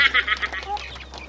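Chickens on a farm in Cebu, Philippines, giving short clucking calls at close range, several quick bursts over a faint steady hum, with no talk.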